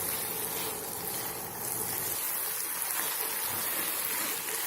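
Water poured into a pan of chilli paneer with cottage cheese and green chilli, a steady broadband splashing and streaming that runs continuously and fairly loud, with a brief louder gush around the middle.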